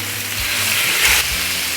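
Pork shoulder, bacon and ham sizzling steadily on a Blackstone griddle at medium-high heat, a dense, close frying hiss with no talk.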